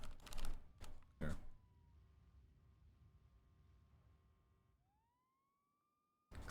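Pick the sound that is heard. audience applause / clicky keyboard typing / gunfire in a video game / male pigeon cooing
clicky keyboard typing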